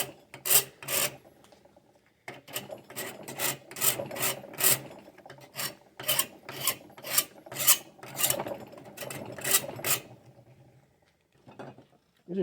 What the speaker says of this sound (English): These are some old Nicholson files from the Gagnon chest. I'm using them as well.